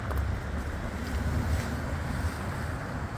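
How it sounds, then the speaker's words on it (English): Steady wind gusts outdoors beside a truck body, blowing as a loud continuous rush with low rumble throughout, no voices. "Because it's windy"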